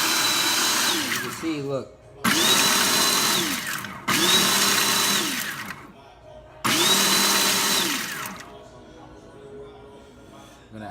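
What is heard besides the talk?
blender blending aji verde sauce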